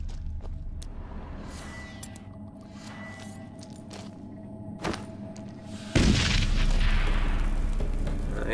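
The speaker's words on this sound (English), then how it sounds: "Throw a bomb up to the ceiling." A bomb thrown at a cave ceiling explodes in The Witcher 3. Over a low, rumbling game ambience, a sudden deep boom bursts out partway through, then a noisy, debris-like wash slowly fades.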